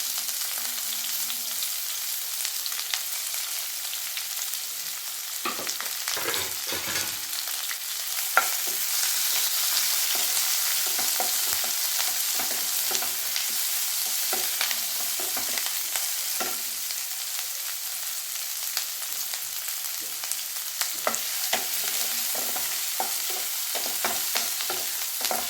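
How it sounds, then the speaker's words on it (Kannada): Onions and curry leaves fry in hot oil in a pan, a steady bright sizzle with occasional stirring scrapes, close and continuous with no talking. "ಈರುಳ್ಳಿ ಫ್ರೈ ಆಗ್ತಿದೆ ನೋಡಿ."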